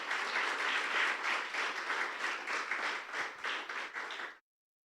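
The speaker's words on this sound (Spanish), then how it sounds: "Tu mejor aplauso al Señor" A church congregation applauds together for about four seconds, a dense, steady roar of many hands clapping at a close, even level before it stops abruptly.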